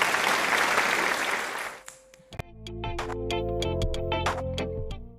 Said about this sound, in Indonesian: Bisa tepuk tangan dulu ya buat Kakak.